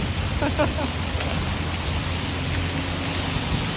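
Heavy storm rain pours down outside a bus terminal in Roi Et, Thailand, making a constant loud hiss and patter on the surfaces. A voice is heard briefly near the start.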